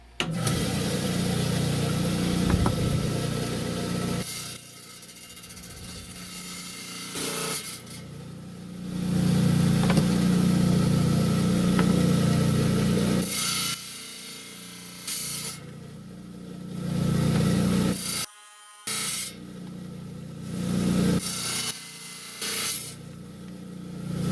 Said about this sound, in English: We're on the 10-inch high-tech trim saw. Got a 10-inch blade, continuous rim sintered diamond.